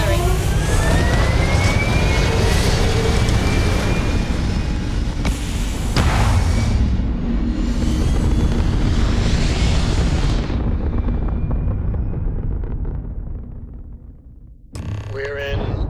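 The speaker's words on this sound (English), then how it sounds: "All thrusters firing." Spaceship thrusters in Starfield fire as a loud, continuous roaring rumble with rising whooshing surges, sustained for many seconds before a brief dip and a sharp final burst.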